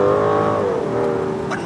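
Rolls-Royce Wraith Black Badge accelerating smoothly, a steady loud engine drone with a rising-then-settling pitch heard from inside the car, with no talk.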